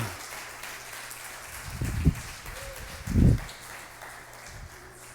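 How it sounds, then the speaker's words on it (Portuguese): A church congregation applauds, with soft, scattered clapping and two louder bursts of thumping partway through. "vamos aplaudir e glorificar o Senhor"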